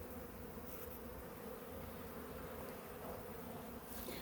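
Honey bees at a beehive attacking an intruding bee, a dense continuous buzzing drone from many insects close by, steady and loud with no talking.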